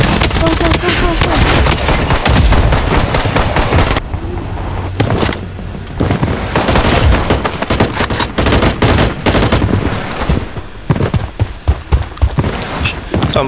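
Sustained automatic gunfire from a Blood Strike mobile shooter match, loud dense bursts and rapid shots with a short lull before the firing resumes, and voices calling out over the top.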